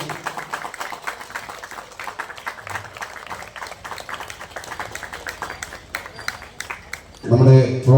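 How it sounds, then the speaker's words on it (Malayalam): Scattered audience clapping at a temple festival honour ceremony in Kerala, running under ongoing talk over a loudspeaker, with a louder burst of clapping close by at the end. "എല്ലാവരും ഒന്ന് കൈയടിച്ച്."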